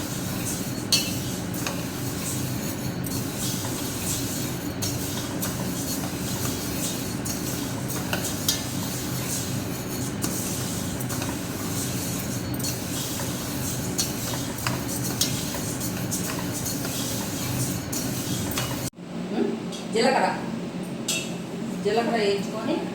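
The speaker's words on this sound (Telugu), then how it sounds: "జీలకర్ర వేయించుకొని" Cumin seeds roasted in a metal pan for sambar spice powder, with continuous clinking and scraping of a spoon stirring against the pan, ending in a brief pause and a few louder knocks.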